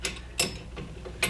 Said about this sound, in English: Now you need to use crescent wrench.